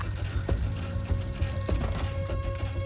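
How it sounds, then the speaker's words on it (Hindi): A telephone bell rings repeatedly in steady bursts, moderately loud, over a constant low hum in a room. "सुब्रमण्यम, तुम्हारा फोन है"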